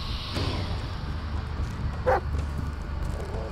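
A single short dog bark rings out in the dark woods of the Blair Witch video game, fairly distant and brief against a low, steady ambient rumble.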